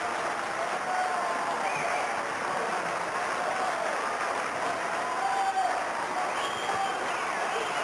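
A crowd at a 1999 Glenelg versus West Australian football match applauds two club players, a steady distant roar of clapping that holds for the full length with faint voices mixed in.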